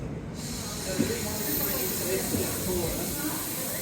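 Steady misting hiss fills a humid rainforest greenhouse at Kew Gardens, the Royal Botanic Gardens, running continuously as a broad spray under quiet voices and footsteps.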